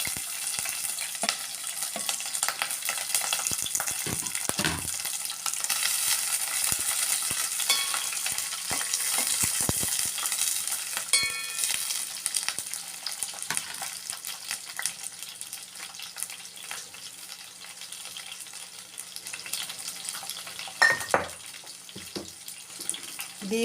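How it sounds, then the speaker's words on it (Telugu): Chopped capsicum frying in hot oil, giving a steady, close sizzle with occasional louder clatters from stirring against the pan, and no talk. "దీనిలోనే క్యాప్సికమ్ వేసి కొంచెం వేయించుకుందాము."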